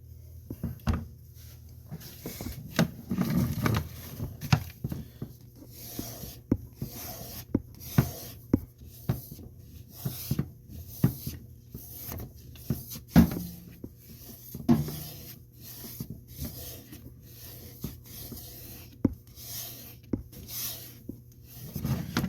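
A knife blade drawn repeatedly across a Work Sharp sharpener, giving short scraping rasps in an uneven rhythm with brief taps and pauses, close and moderately quiet, with no talking.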